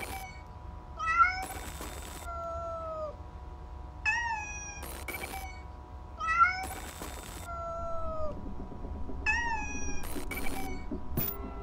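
Repeated plaintive kitten meows from the video game Amanda the Adventurer, several drawn-out mewing calls in a slow rhythm, close and clear over a low hum and occasional short bursts of game noise.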